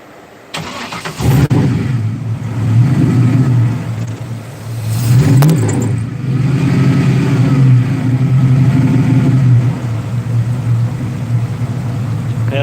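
A car with a 4.8 LS V8 cranks briefly, catches and fires up, then settles into a loud, steady rumbling idle with revs rising and falling, close by and alone.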